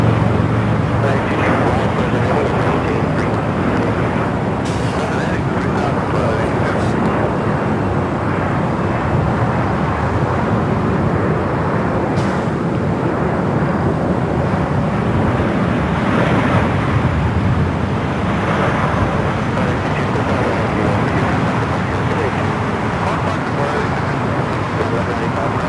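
United Airlines Boeing 737 MAX 9 arriving at LAX on a flight from Denver, producing a steady, loud broadband jet roar that fills the whole stretch without a break.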